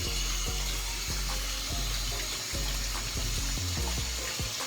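Water running steadily from a shower, a loud constant splashing rush close by, with occasional knocks and bumps underneath.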